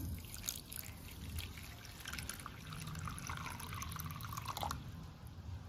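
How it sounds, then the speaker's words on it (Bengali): Water is poured into a small bowl of basil seeds set to soak, a soft close trickling and dripping with light splashes that runs steadily and faintly throughout. "এতে আমি জল দিয়ে দিচ্ছি"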